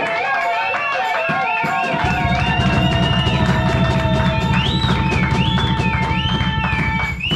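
A church congregation gives a loud acclamation, with high wavering shouts or whistles over a crowd roar. After the first couple of seconds a fast, steady low pulsing joins in and carries on to the end.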